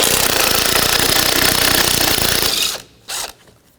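Impact wrench with a 13mm socket removing a front strut nut on a 2011-2018 Volvo S60, a steady loud rattling hammer for over two seconds, then a brief short burst after a pause.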